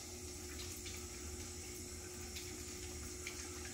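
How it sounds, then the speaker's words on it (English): Tap water runs steadily while hands are washed in a sink during peritoneal dialysis setup, a continuous close hiss with faint splashes and rubbing. "So we're going to wash them really well."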